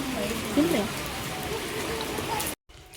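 Rainwater leaks heavily through a house roof, making a steady wet patter that is briefly joined by a faint voice and cuts out abruptly near the end.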